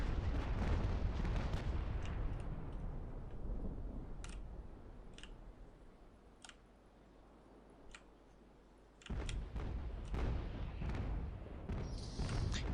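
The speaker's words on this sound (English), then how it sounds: "And there goes the broadside." Broadside cannon fire from sailing warships in Naval Action, a rolling volley of deep booms and sharp cracks, then a quieter lull before another burst of heavy shots resumes near the end.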